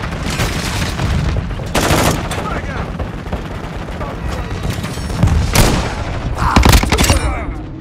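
Helicopter gunner firing in Call of Duty: Modern Warfare II, with loud, close bursts of automatic gunfire and heavy impacts booming over a dense battle din, while radio-style voices speak underneath.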